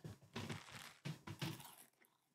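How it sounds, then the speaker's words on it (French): A desk creaks and cracks in a few short, faint bursts, the crackling rising and falling irregularly over about two seconds with no voice over it. "Désolé pour le bruit, c'est mon bureau, il fait un max de bruit."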